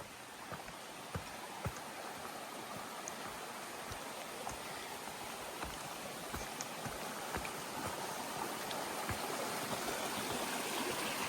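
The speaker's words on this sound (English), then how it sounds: "All the water everywhere is flowing very well today." Steady stream water rushing along a hiking trail on the Appalachian Trail, a continuous broadband wash with small splashes, close and fairly loud throughout with no talking.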